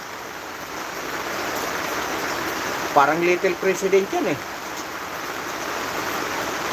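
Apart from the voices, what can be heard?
rain drumming on a tarpaulin roof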